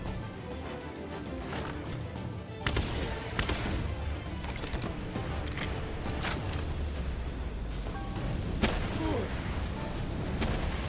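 Rapid, loud plasma cannon blasts fire repeatedly in Palworld over a dense, rumbling game soundscape, with sharp bursts cutting through continuous noise.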